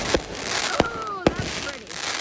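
Three sharp firework pops burst at a steady pace in a neighborhood display, each trailed by descending whistles and crackle, with faint voices beneath.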